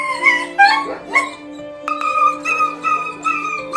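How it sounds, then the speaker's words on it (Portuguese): A distressed dog tangled in fabric gives repeated high whimpers and yelps in short bursts, close and fairly loud, with a steady hum underneath. "Um policial ouviu os gritos de um cachorro infeliz que acidentalmente se enroscou em algum tecido"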